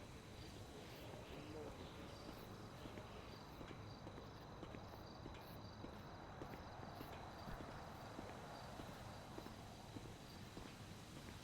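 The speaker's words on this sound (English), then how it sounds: "Fucking loud ass footsteps." Heavy footsteps echo through an online multiplayer game, a steady stream of thudding, clip-clop-like steps running almost continuously and fairly loud, with a faint constant electronic hum behind them and occasional talk in the background.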